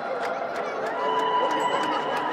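Handclaps ring out inside the great dome at Vijayapura, a steady string of sharp cracks, each echoing back, over a murmuring crowd of visitors.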